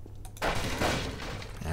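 Gunfire in Half-Life 2, a burst of shots beginning after a brief quiet moment and continuing as dense, noisy firing for over a second, fairly loud with no talk.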